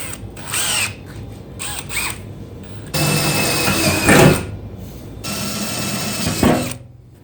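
A power drill with a 1/4 inch bit whirs in several bursts while installing a fender flare on a Jeep XJ, spinning up and biting into material, with short pauses and mechanical clatter between runs, loud and close.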